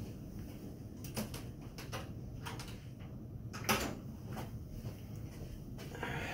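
An office door swings shut with one solid thump in the middle of a quiet room, with a few scattered light knocks and clicks before and after.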